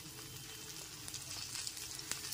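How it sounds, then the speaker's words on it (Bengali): Soft, steady sizzle as fried eggs go into a pan of cooked-down masala for a spicy egg pepper curry, a quiet continuous crackle close by with no one speaking. "এবার সমস্ত মশলা কষানোটার ভেতরে ভাজা ডিমগুলোকে দিয়ে দিচ্ছি।"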